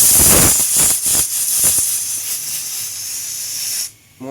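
A pressure cooker whistle venting steam in a home kitchen, a loud, continuous close hiss with a few pulsing bursts early on, cutting off abruptly near the end.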